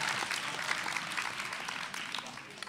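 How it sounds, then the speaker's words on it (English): Audience applause for a student poet at a grade 11/12 spoken word competition, a steady, moderately loud wash of many hands clapping that holds evenly throughout. "Give Sierra another round of applause"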